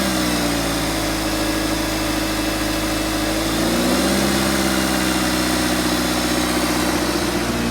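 A 2.4 Ecotec car engine with a newly replaced timing chain idles steadily and close by, a continuous low rumble with a slight shift in tone partway through, no voices.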